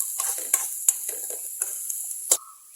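Bamboo shoot stir fry cooks in a pan over a low flame, with a soft background sizzle broken by several sharp metallic clinks and scrapes of a spoon stirring against the pan, close and without talk.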